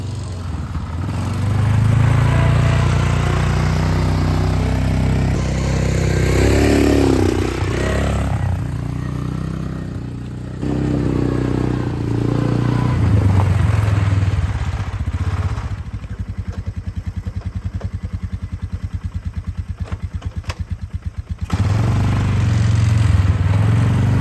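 A Polaris Sportsman 6x6 ATV, revived after years of sitting, runs under way with a steady, loud mid-pitched engine drone and rattling clatter that rises and dips as it is driven, continuous throughout.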